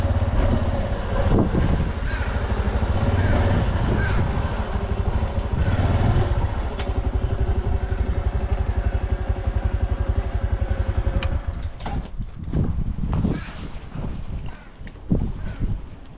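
A Honda Trail 125 (CT125) motorcycle engine drones steadily up close on a rough track in Gustavus, Alaska, with buzzing, bumpy throttle changes, wind rushing past, then slows and sputters near the end.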